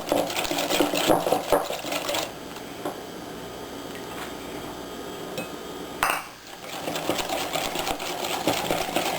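A whisk beats pineapple bread pudding batter in a bowl with rapid rhythmic clinking and scraping, steady at first, pausing briefly, then resuming at close range.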